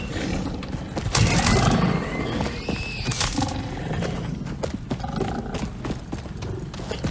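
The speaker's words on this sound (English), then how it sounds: "We've got hogs." Hogs, the alien creatures in the video game Satisfactory, give loud snorting, grunting roars and scuffling over game sounds, close and fairly constant for several seconds.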